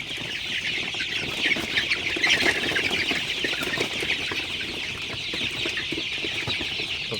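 A flock of thirty-three-day-old Sonali super hybrid chickens clucks and cheeps continuously in a steady, dense chorus close by, with no talk over it.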